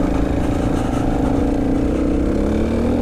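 An enduro motorbike engine chugs uphill on an off-road trail, a loud, close, steady low drone that holds throughout with no voices.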